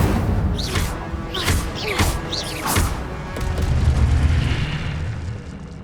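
Fire spells in the video game Hogwarts Legacy cast as loud booming bursts that come several times in quick succession, then give way to a sustained roaring rumble.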